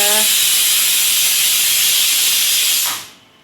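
Steam hissing loudly and steadily from a pot of boiling peas, then cutting off abruptly near the end.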